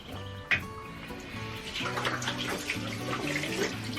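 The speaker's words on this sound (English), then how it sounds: "We just need to give them a rinse with some water." Hands are rinsed under a running tap, a steady, fairly quiet stream of water with soft splashing and a brief splash near the start.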